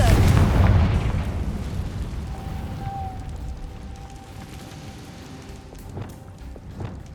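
A Confringo blasting spell going off in Hogwarts Legacy, a single heavy boom at the start that decays into a rumbling tail with a thin tone lingering, followed by faint scattered game sounds.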